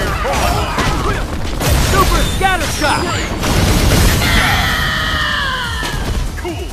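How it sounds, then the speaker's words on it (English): Hawkeye's super scatter shot attack in the fighting game Marvel vs. Capcom: Infinite, a dense, continuous barrage of bursts, crashes and whooshing projectile sounds, loud and close, with game effects layered throughout. "Super scatter shot!"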